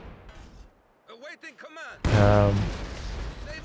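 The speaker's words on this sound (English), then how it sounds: "the Tier 4 is getting sieged down by these AAT guns" Anti-tank guns fire during a Company of Heroes 2 one-versus-one match. One loud, booming shot bursts out midway and rumbles on beneath someone commentator's speech, with quieter game sounds before it.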